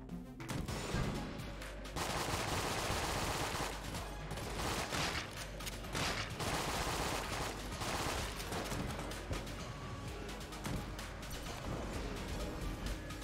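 Rapid, dense gunfire from the guns in Enter the Gungeon, heavily modded, with a companion's shots doubled, crackling almost without pause across the whole stretch beside game music and effects.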